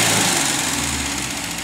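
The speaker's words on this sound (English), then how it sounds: "It's idling pretty good for warm up." A warmed-up 1967 MGB engine idles steadily and slightly low, a close, even mechanical hum with faint vibration and no voices.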